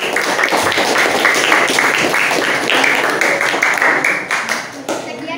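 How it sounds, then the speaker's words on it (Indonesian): A classroom full of people clapping steadily after a group presentation, dense and sustained applause that thins slightly toward the end. "Tepuk tangan untuk kelompok 4"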